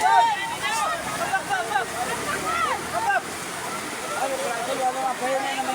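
Strong floodwater rushes steadily past a pick-up truck trapped mid-current, a continuous loud roar and wash with wind buffeting, while people talk and call out over it.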